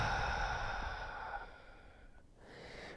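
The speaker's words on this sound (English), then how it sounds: "Take another deep breath in. And on the exhale," A long, deep exhale during a relaxing meditative yoga flow, heard close and breathy, fading out over a couple of seconds before a faint new breath begins, with no talking.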